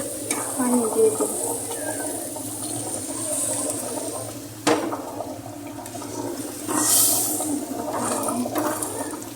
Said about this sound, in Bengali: এক হাতে ক্যামেরা ধরছি, আর এক হাতে রান্না ডাল লাড়া দিতেছি।